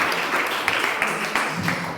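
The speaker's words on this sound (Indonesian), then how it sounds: "Oke, tepuk tangan untuk kita semua." Classroom group applauding themselves, a brief burst of dense mixed clapping with some faint voices underneath, moderately loud and close.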